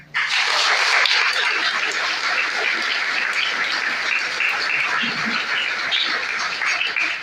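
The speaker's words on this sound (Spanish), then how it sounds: "Denle un aplauso al Señor." A church congregation at a Baptism of the Lord Mass breaks into steady, full applause that holds at an even level for several seconds, a dense roomful of clapping with no talk over it.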